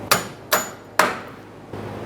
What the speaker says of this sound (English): so we can start tapping this bolt out of here